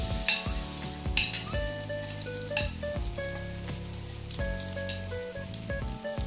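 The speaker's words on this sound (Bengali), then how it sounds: "তেলটা গরম হয়ে গেছে। এইবার আমি সয়াবিনগুলো দিয়ে দিচ্ছি।" Soya chunks frying in hot oil in a kadai give off a close, dense sizzle with occasional stirring clatter, over faint background music.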